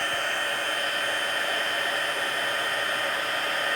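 Heat tool blowing hot air steadily to emboss powder over wet ink on a stamped card sentiment, a constant loud broadband whoosh with no talk throughout.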